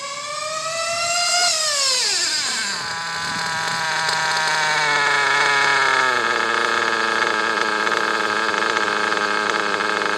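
Tuned race car engine on a single-stage tune, its revs falling from a throttle blip and settling into a loud, steady, rough idle close by.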